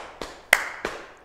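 Three quick body-percussion hits, pats around one bright central clap, played close and clean in a quiet room with nobody talking.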